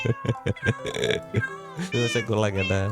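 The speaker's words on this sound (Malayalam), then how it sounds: "ഇതിൻ്റെ മേളിൽ വെച്ച് ക്ലിക്ക് ചെയ്ത് കഴിഞ്ഞാൽ ആ പൂച്ചര സൗണ്ട് കേൾക്കുന്നുണ്ട്" A Minecraft player head in the shape of a cat gives repeated meows in short tonal bursts, close and clear, mixed in with a voice and other game sounds.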